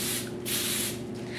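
Hairspray hisses from an aerosol can onto a hair-extension updo in two long bursts close by, a short pause between them, then a sharp louder puff at the very end.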